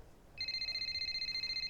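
An in-game telephone in F1 25 rings with a steady electronic trill that starts abruptly after a brief quiet moment and continues evenly to the end.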